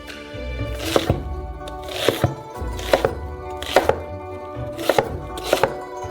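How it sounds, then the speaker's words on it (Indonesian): Onion being chopped into large pieces on a cutting board with a knife: about six crisp, evenly spaced chops, close and clear, with no voices. "Untuk isian, potong bawang bombay menjadi potongan besar."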